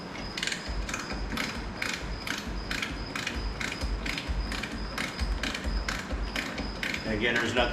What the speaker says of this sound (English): Go ahead and get a wrench for the master cylinder from the brake booster.